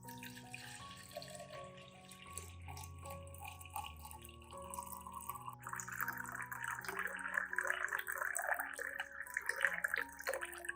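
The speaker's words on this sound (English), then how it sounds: "I'll begin by preparing about 500 milliliters of warm water." Warm water, about 500 milliliters, runs from a tap into a container, a steady splashing flow that rises in pitch and grows louder as it fills, heard alone and close.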